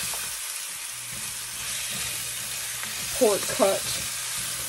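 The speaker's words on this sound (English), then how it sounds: "I'm going to just saute these here for probably about 5 minutes" Granny Smith apple pieces, cut into eighths, saute in a pan with a steady, even sizzle, with a brief spoken remark near the end.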